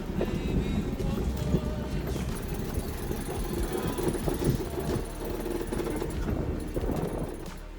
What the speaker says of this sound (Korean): 바람이 너무 세지고 있습니다